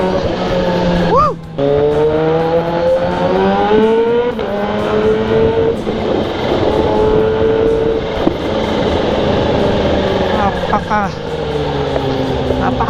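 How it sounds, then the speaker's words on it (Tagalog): A Kawasaki ZH2 motorcycle out on a ride roars loud and close, its engine note rising and falling through repeated revs and gear changes, with a voice calling out over it. "Napakasalbahe ang motor na to."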